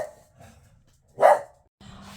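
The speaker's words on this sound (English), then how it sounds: "now that the barking is all over" A dog gives one sharp, fairly close bark in an otherwise quiet room, with only faint low rustling before and after.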